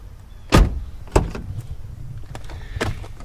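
The driver's door of a 2008 Jeep Wrangler Unlimited X swings open with a latch click and then shuts with a solid thump, followed by faint handling noises nearby.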